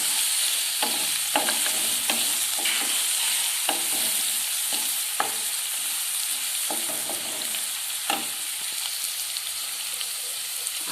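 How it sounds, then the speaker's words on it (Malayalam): Bitter gourd mixture for Kerala-style pachadi stirred in a pan, with a steady sizzle and repeated scraping clicks and knocks of the spoon against the pan. "നന്നായി ഇളക്കുക."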